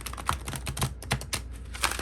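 Tarot cards shuffled in steady succession, giving a run of quick, dry clicks and taps close by with no voices over them.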